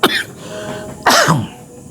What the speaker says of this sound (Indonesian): kalau udah tua tuh batuk tiba-tiba tuh